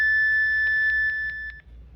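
A VGC N75 UHF radio sends a tone call: a loud, steady electronic tone broken by a quick run of about six short pulsing beeps, close up and alone, ending in a brief hiss.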